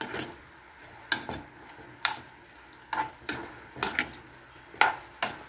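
Creamy chicken with cheese cooking in a pan, with a soft bubbling simmer underneath and sharp utensil taps and stirring scrapes at irregular intervals, close and fairly quiet, no talking.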